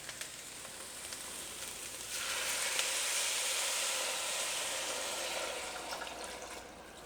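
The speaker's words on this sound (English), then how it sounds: "next our beef broth" Beef broth pours into a soup pot of lasagna soup, a steady liquid rush that swells after a couple of seconds and runs on for several more, fairly soft and alone.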